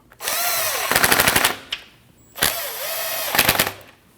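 An impact power tool drives 8mm bolts on the dual radiator fan and condenser fan assembly of a 2013-2019 Ford Escape, two close, loud bursts of rapid hammering rattle with a motor whir, separated by a short pause.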